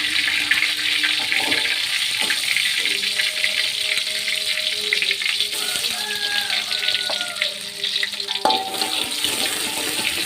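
Instant-noodle seasoning stir-frying in a pan gives a steady, close sizzle throughout, with light clinks and scraping of a utensil scattered over it.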